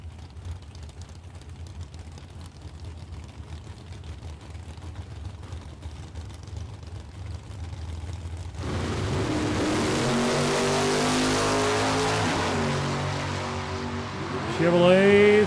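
A Chevrolet Chevelle and a Malibu wagon line up at a drag strip, idling at first, then erupting into a loud sustained engine roar. A second burst of revving follows, and an announcer talks throughout.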